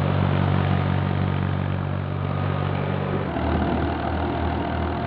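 A small tractor engine labours as it drives a wheat thresher overloaded with grain, a loud continuous low drone whose pitch sags and roughens partway through as it loses power.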